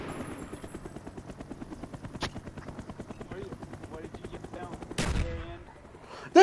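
Enemy Cobra attack helicopter in a military shooter game, a steady rotor chop running throughout with bursts of gunfire and sharp explosive hits, a loud blast near the end.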